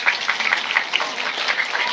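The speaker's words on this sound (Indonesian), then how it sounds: "tepuk tangan dulu" Audience clapping at an Islamic religious study gathering led by a female preacher, a steady dense patter of many hands that carries on for the whole moment without voices over it.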